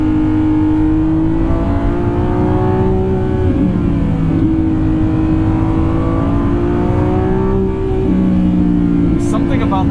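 Lamborghini Revuelto supercar in track mode accelerating hard, a loud steady engine drone rising in pitch with abrupt gear shifts breaking the tone, heard from inside the car.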